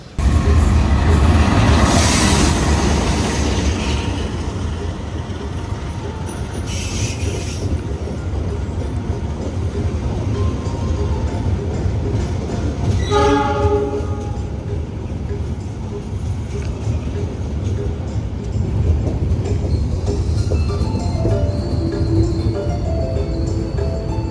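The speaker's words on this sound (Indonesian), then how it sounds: "akan dipersiapkan masuk kedatangan kereta api Argo Parahyangan dari stasiun Bandung" The Argo Parahyangan passenger train pulling into a station from Bandung: a loud rumbling roll of wheels and carriages with rhythmic clatter, a brief squeal midway, and fainter sounds of the station around it.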